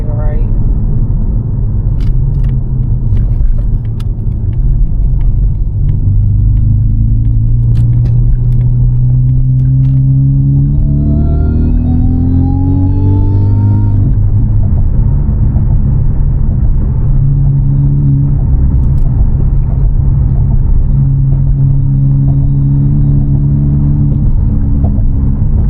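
A Mazda 3 driven from the cabin with a supercharger whine mod, a steady low engine drone with a faint rising whine as it accelerates midway, heard close and continuous throughout.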